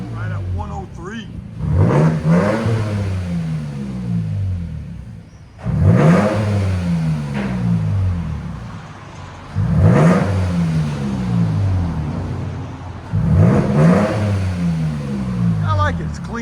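A 2023 Toyota Tacoma TRD with a 3.5L V6 and a Carven TR-Series exhaust revs four times in spaced bursts, each rising then falling back to a clean idle rumble, loud and close.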